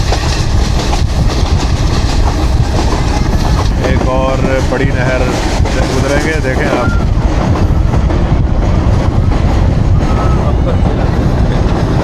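The Millat Express runs along the rails near a large canal in Pakistan, a loud continuous rumble with clattering wheels heard from on board while someone talks over it.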